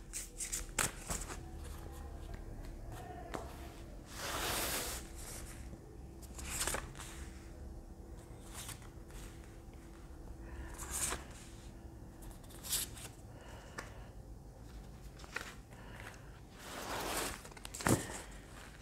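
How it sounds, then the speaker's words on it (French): Power of Love tarot cards being shuffled by hand in a quiet room: soft, continuous riffling and sliding with several louder ruffling bursts, close and without speech. "Alors on va prendre d'autres cartes du Power of Love."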